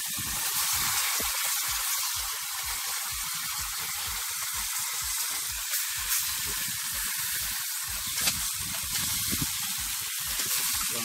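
Meat frying in curry in a pot for a Jamaican pig foot dish, a steady loud sizzle and hiss running throughout with no pauses.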